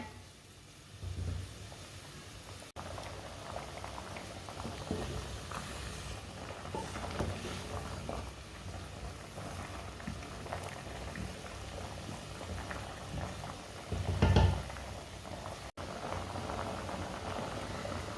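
Carrot murabba, a sweet carrot preserve, simmering in a pot, giving a steady low bubbling and burbling that carries on throughout at moderate loudness, with a few louder pops and a brief surge near the end.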